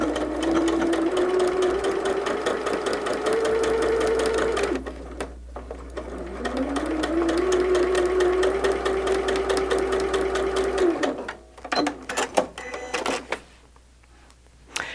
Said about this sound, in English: Let me sew that one really quick